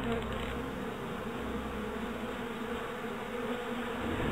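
A dense, steady buzz of a bee swarm inside a hive in the Mata Nui Online Game fills the whole clip at an even level, with no talking over it.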